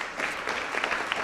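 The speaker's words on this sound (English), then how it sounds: "So let's have a round of applause." Audience at a university Constitution Day event giving a brief round of applause, a dense, even patter of many hands clapping at moderate loudness.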